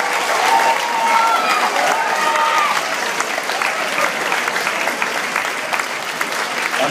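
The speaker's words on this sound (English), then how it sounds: "So give yourselves a round of applause." Students in a school hall give a long round of applause at a house championship, a steady, full clapping crowd with a few voices audible early on, gradually thinning toward the end.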